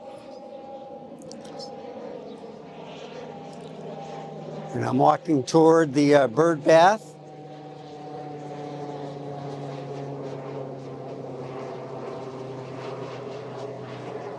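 A propeller airplane drones steadily overhead, a low constant hum throughout while someone speaks near the microphone, with a brief burst of handling clatter in the middle.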